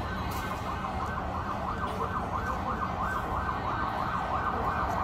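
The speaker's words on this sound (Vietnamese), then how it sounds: "Các bạn nghe tiếng còi đang đi đến rồi." Sirens from a motorcade approach along Trang Thi street in Hanoi, a continuous wailing tone over dense traffic rumble that stays fairly faint and distant.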